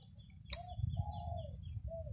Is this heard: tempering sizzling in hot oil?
no